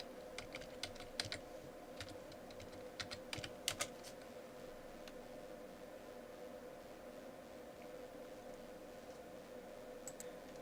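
Keys clatter on a computer keyboard as a command is typed, light scattered taps in short clusters over a steady faint background hiss, close and quiet.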